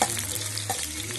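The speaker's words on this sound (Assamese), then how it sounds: "তেলটো গৰম হৈ দিব লাগিব, তাৰপিছত পিঁয়াজটো দিব লাগিব" Onions dropped into hot oil for a pork curry crackle and sizzle loudly up close in a short, bright burst of frying, with a faint stir partway through.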